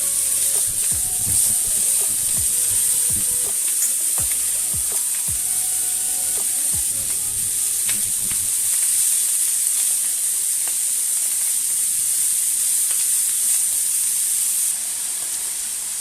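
Pumpkin buns frying in a hot pan, giving a steady close sizzle and hiss that runs throughout, with a few soft clinks and scrapes early on.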